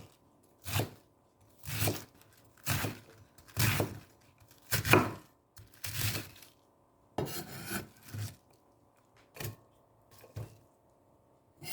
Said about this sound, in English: then cut into desired size